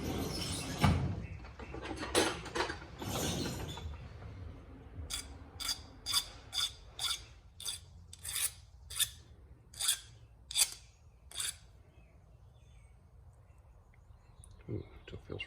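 Hand filing on a 2006 Triumph Speed Triple case cover: about a dozen short, evenly paced rasping strokes, close and moderately loud, following a stretch of talk and handling noise.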